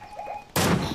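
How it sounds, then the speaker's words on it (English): Gunfire in the Fortnite video game: a sudden loud broadband burst hits about halfway through and sustains to the end, following a quieter stretch with faint tonal game sounds. "There's shots everywhere."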